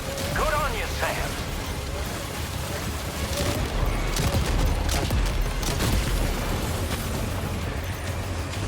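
Battle in the video game Death Stranding 2, with heavy, continuous gunfire, rumbling blasts and mechanical clatter throughout, loud and dense, with a brief voice-like sound early on.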